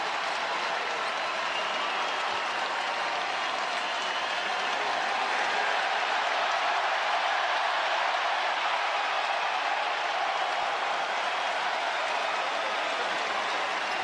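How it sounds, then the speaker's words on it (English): A crowd gives LeBron James a standing ovation for a milestone at a basketball game, sustained applause heard as a dense, even wash of clapping and cheering from a distance throughout. "They're giving him a standing ovation"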